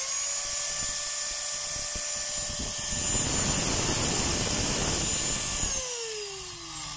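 A Black & Decker G720 4-inch angle grinder with worn gears runs continuously, its motor whining steadily. Partway through the sound grows louder and rougher, then it winds down near the end.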